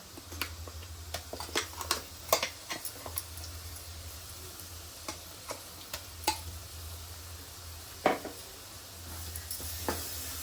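A ground masala paste for crab curry fries in oil in a pan, giving a faint, steady sizzle with scattered clicks and scrapes from stirring and a low hum underneath.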